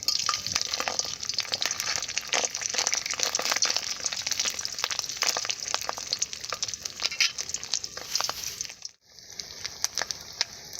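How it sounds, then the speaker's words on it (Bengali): Beaten eggs fry in a pan with a dense, close crackling sizzle full of small pops, running steadily before briefly cutting out and then resuming more softly. "ভালো করে ডিমগুলো ভেজে নেব।"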